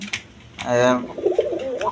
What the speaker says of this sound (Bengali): এখানেও দুইটা এক পেয়ার কবুতর আছে দুটাই নর কবুতর